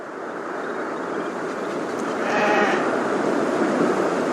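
Sheep bleat in the video game Beyond: Two Souls, a wavering cry rising out of a steady windy ambience midway and fading back, moderately near with no talk.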